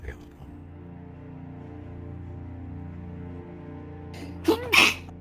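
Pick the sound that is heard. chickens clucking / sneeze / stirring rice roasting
sneeze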